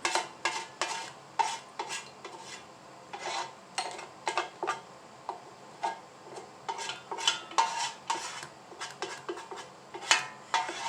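A metal spoon scrapes homemade strawberry jam from the bottom of a pot, a series of short clinks and rasping scrapes in uneven bursts, close and fairly quiet with no voices.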